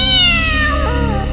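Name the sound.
cat meowing, sound effect in horror story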